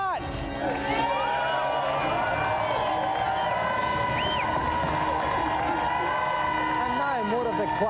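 A television studio audience on a Christmas special of a video games show claps and cheers continuously. The applause is loud and sustained, with music and voices running through it.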